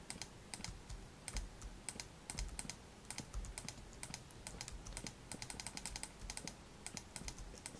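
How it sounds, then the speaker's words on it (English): Rapid clicking from a computer keyboard and mouse at a desk, a dense, irregular patter of small sharp taps that runs continuously at low volume, with no talking. "Sorry if you can hear any mouse clicking"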